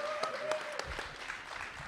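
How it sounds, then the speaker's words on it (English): An audience at a Saturday morning rally claps for Reverend Sharpton's leadership, with steady, moderately loud applause and some sharper individual claps standing out. "I think we should give Reverend Sharpton another round of applause for his leadership"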